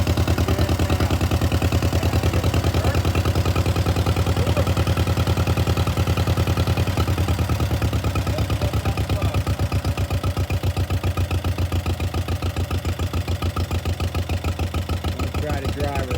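A 1948 John Deere M tractor engine idles with a steady, loud, rapid chugging knock that stays even and close for the whole stretch, easing slightly toward the end.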